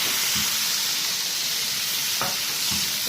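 Chicken or pigeon gizzards fry in ghee in a pan, giving a steady close sizzle and hiss with a few soft stirring scrapes.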